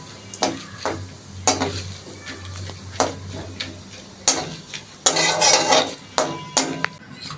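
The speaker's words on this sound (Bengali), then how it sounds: "প্রথমে ফোড়নে দিয়ে দিলাম গোটা চিড়ে ফোড়নটা ভালো করে ভেজে নিতে হবে" Whole spices temper in hot oil before fish is cooked, heard as a light crackle under repeated sharp clinks and taps of a utensil against the pan, with one louder burst of sizzling near the end.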